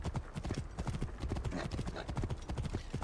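Horse hooves galloping in Assassin's Creed Origins, a rapid, even clip-clop rhythm pounding close and clear throughout, with faint voice sounds mixed in.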